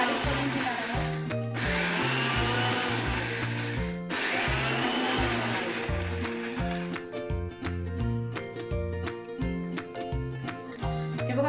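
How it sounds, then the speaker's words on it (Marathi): An electric mixer grinder coarsely grinds coriander leaves, coriander seeds, garlic and ginger in short bursts. A loud motor whine starts and stops repeatedly in a choppy rhythm, and no one speaks. "ते मिक्सर आपण डायरेक्ट असं 1 2 3 च्या मोडवर न घेता डायरेक्ट या प्रकारे थोडं थोडं करून असं आपण चरचरीत बारीक करून घेणार आहोत"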